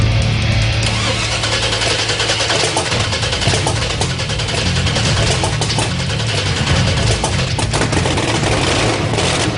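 A freshly installed and wired hot rod engine fires up in a build-competition workshop, running loud and continuous with a dense, rough, rumbling roar and rapid popping that carries steadily throughout.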